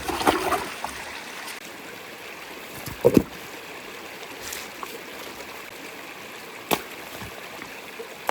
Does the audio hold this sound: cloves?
no